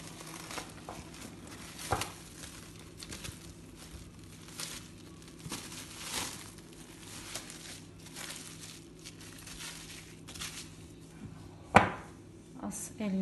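Plastic cling film being peeled off a bowl of rested pide dough, soft crinkling and rustling with a sharper crackle near the end, close and fairly quiet over a low room hum.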